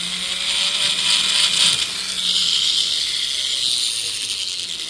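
Rotary tool with a polishing wheel working the inside of a ring, a steady high-pitched whine running continuously with slight rises and falls in pitch, close and alone.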